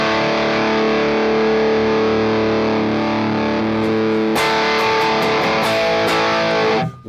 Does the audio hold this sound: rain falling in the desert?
no